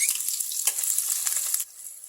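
Sliced onion and green chillies sizzle and crackle in hot oil in a kadai, a close, bright frying hiss with light stirring scrapes that drops to a softer sizzle near the end.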